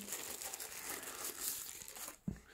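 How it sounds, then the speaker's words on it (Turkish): Packaging for a Netogy DV9161 TV box crinkles and tears as it is opened, a close rustling scrunch lasting a couple of seconds that ends with a soft thump, quiet overall. "Kutumuzu açıyorum."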